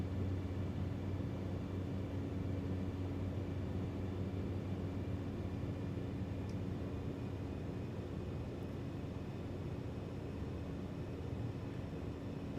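Steady, even drone of an aircraft engine in Microsoft Flight Simulator 2024 with flaps fully extended, a constant low hum with faint tonal lines, no voices over it.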